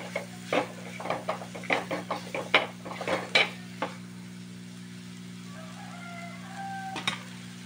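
Washed prawns go into a frying pan with fried tomato and rock salt, making a run of bright metallic clinks and clatters from utensils against the pan over a steady low hum, then quieter sizzling.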